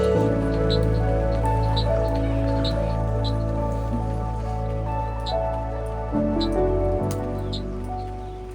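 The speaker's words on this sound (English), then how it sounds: "Luckily the rain wasn't as intense as it had been the past few nights." Rain falls on a camp gazebo in the Drakensberg mountains, light drops pattering and dripping in a steady rhythm over a low continuous hum, close and fairly even throughout with no talking.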